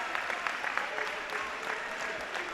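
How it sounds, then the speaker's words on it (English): Spectators at a veterans' judo world championship applauding in a sustained, moderately distant patter of many hands, with a commentator's voice faintly underneath. "Lots of applause for both of them."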